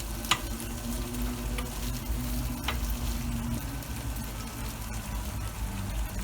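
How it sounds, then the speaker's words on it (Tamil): Pieces of chicken frying in masala in a pan for a homemade chicken pizza topping give off a steady, close sizzle, broken by a few sharp spoon scrapes, with no talking. "பாருங்கள், சிக்கன் வந்து இப்போ நல்லா ஃப்ரை ஆயிடுச்சு."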